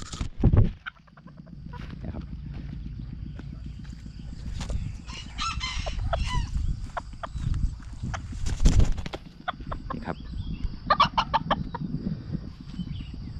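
Bantam chickens cluck and a rooster crows nearby amid a busy farmyard, with several sharp calls standing out over a steady low rumble.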